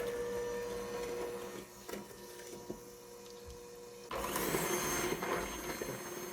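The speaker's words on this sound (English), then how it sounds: "we're going to use a little hand mixer and mix these up till it's light and fluffy" Small electric hand mixer beating two eggs with brown and white sugar for a blueberry sauce cake, a steady whirring motor hum that jumps louder and harsher partway through.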